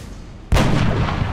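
A sniper rifle shot in XCOM Enemy Unknown fires as a single sudden, loud blast, followed by a booming tail that rolls on to the end.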